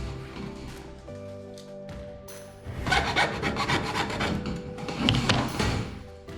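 Tubes being cut to 6 cm, a rasping, rubbing saw-like scrape that starts quietly and grows louder in two longer bursts, close up with no talking.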